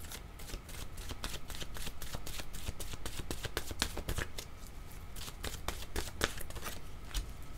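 Oracle cards are shuffled by hand in a rapid, close, steady flurry of crisp riffling slaps and flutters that continues for several seconds without talking.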